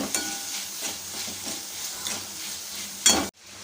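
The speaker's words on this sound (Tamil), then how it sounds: "தக்காளி கொஞ்சம் சாஃப்டாகட்டும் வதக்கிப்போம்" Tomato and onion sauté in a pan with a soft continuous sizzle and repeated scraping stirs of a spoon, ending in a sharp clank before sudden quiet.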